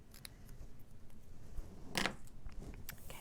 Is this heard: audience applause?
no